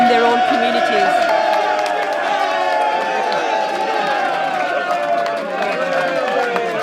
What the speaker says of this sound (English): Everyone's out here cheering every candidate who comes out